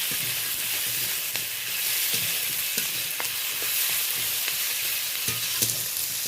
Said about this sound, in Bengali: এবার আলু গাজর আর পেঁয়াজ টমেটো কাঁচা লঙ্কা ফোড়নের সাথে ভালো করে নেড়ে নিচ্ছি